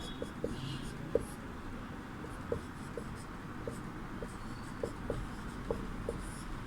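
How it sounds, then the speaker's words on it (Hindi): Chalk or marker taps and scratches on a board during a Sanskrit lesson, a series of short strokes at irregular intervals over a faint room hiss. "इसमें जो है हम लोग पहला नाम लिखेंगे।"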